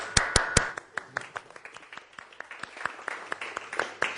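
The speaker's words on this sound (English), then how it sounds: "we might be clapping a bit more as we are used to because he likes when people clap" An audience claps at a nonviolence engagement event, starting with a few loud, separate claps and settling into scattered, sparse clapping from several people nearby.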